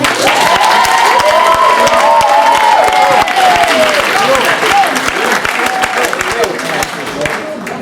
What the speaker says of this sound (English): let's put our hands together for applause.